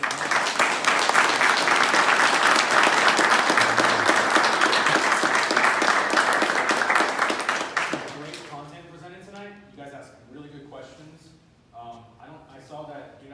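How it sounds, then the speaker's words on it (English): An audience claps loudly and evenly after presentations at a data-focused meetup, the applause tapering off around eight seconds as people start talking over the last scattered claps. "Big round of applause."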